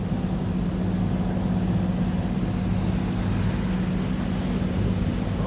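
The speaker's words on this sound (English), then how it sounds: "here you can see all the fishing boats that are flying by us" Fishing boats racing past a slower boat on the water near the Florida Gulf coast, a constant loud engine drone and rushing water with a steady low hum throughout, no voices.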